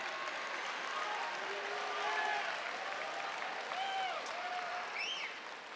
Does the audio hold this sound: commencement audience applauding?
yes